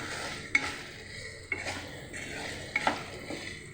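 Potatoes frying in a pan for egg and aloo fry, a low steady sizzle with a few sharp spoon-on-pan scrapes and clinks spaced a second or so apart, fairly quiet.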